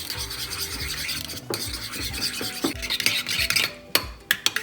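A spoon stirs and scrapes through raita with coriander and mint in a bowl, a steady close rasping mix with sharper clinks against the bowl near the end, no voice.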